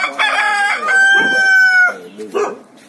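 Rooster crowing at a chicken coop, a long drawn-out cock-a-doodle-doo rising clearly over nearby hens clucking before and after it, loud and close.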